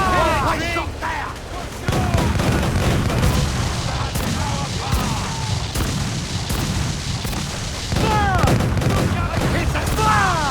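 Ship cannons boom repeatedly in a naval battle in Assassin's Creed IV: Black Flag, heavy blasts and rolling impacts under constant shouted crew orders, with louder volleys near the middle and end.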